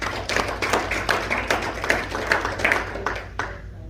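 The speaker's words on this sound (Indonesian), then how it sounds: "Tepuk tangan, tepuk tangan." A church congregation claps along during a Christian sermon on peace, many hands in quick irregular bursts of moderate loudness that fade out near the end.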